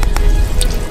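Meltwater dripping from the melting Greenland ice sheet, a few close, separate wet drops over a low background rumble.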